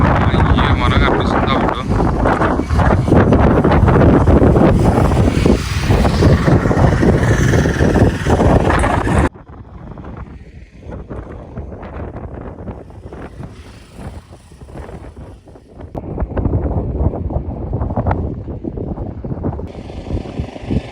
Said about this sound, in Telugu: చాలా గాలి వస్తుంది ఇక్కడ.